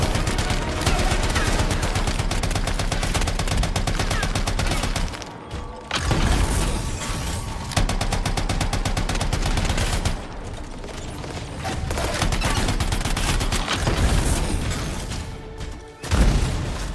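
Rockets and grenades fired by a character's super ability in the video game Anthem, loud, dense rapid bursts of firing and mechanical clatter with several explosive booms, running almost continuously and broken by a few short pauses.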